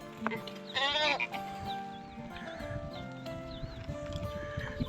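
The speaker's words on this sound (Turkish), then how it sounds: "Bu o kuzu." A lamb bleats loudly near the start in a wavering, quavering call, then goes quiet while farmyard noise continues, with softer animal sounds and faint shuffling around it.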